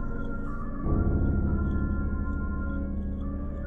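Electronic brass-like tones from the video game LISA play as a short, steady sustained chord that thickens after a moment, moderately loud, with no voices.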